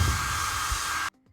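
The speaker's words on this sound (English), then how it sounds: "I've overlapped the normal sound of the hairdryer with the muffled sound" A hair dryer runs with a steady loud whooshing roar, its normal sound layered with a muffled version, then cuts off abruptly into near silence.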